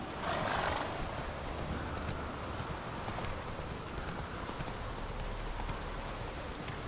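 A horse gallops in the Witcher 3 video game, with steady hoofbeats under a constant rain-like hiss that fills the whole clip. No one speaks.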